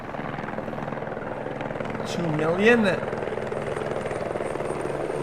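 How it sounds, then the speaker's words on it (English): Customs helicopter flying overhead at the US-Mexico border, a steady rotor drone that swells briefly near the middle, heard under a voice speaking. "Because the customs helicopter in action."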